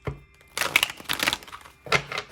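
Tarot cards shuffled by hand in three brisk bursts of riffling, close and fairly loud, with short pauses between them and no talking.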